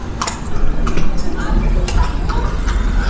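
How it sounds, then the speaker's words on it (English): Steady clip-clop of horse hooves on a hard street in Tequila, Mexico, a regular trotting rhythm up close, with voices and background bustle around it. "Riding a horse through Tequila."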